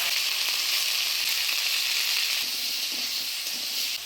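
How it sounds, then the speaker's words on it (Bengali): Cut sweet pumpkin fries in a tempering of black cumin and dried chili with turmeric and salt, giving a loud, dense, continuous sizzle that holds steady and eases slightly toward the end. "এবার দিয়ে দেবো কাটে রাখা মিষ্টি কুমড়া, দিয়ে দেবো হলুদ লবণ"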